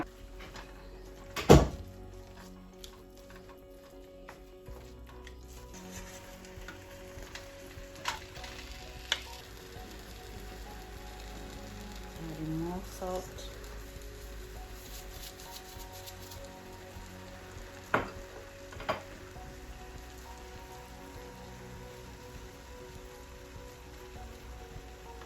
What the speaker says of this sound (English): we had the palm oil in first, and now we have the potato leaf added to it so we can fry it.